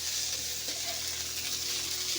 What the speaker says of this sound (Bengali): সমস্ত উপকরণ নেড়ে চেড়ে একদম ভাজা ভাজা করে নিতে হবে।